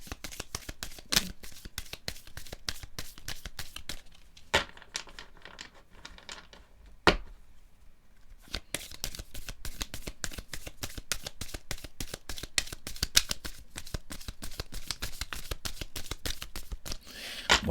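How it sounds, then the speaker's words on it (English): Tarot cards being shuffled in rapid riffling bursts, close and crisp, with brief pauses between rounds. "3 shuffles, nothing coming."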